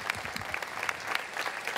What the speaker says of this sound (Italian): soprattutto con un grande applauso di questo pubblico che è intervenuto davvero numeroso e meraviglioso